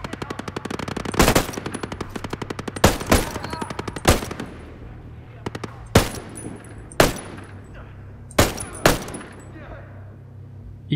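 Single-shot gunfire in a tactical shooter game: sharp, loud reports spaced a second or more apart, about nine distinct shots, ringing over a quieter background with a rattling tail after each.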